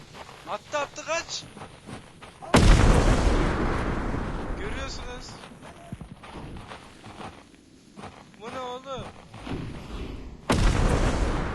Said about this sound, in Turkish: Bomba atıyor. Kaçın kaçın.